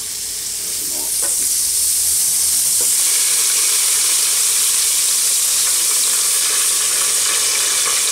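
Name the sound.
duck sizzling as it is flipped on a Cobb BBQ grill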